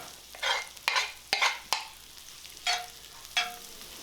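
Butter and garlic sizzle in a pan, a soft steady fry punctuated by several sharp bursts and clatters of stirring, spaced irregularly, with no talking.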